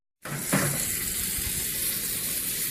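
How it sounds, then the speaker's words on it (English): Thin chicken pieces sizzle as they brown in a pan, a steady close frying hiss that starts abruptly and holds without pause. "now we're just going to brown these for maybe 2 to 3 minutes on each side"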